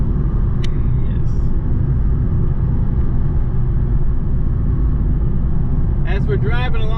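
A car drives along a road through small-town Van, Texas, producing a steady low engine and tyre rumble, with a brief voice near the end.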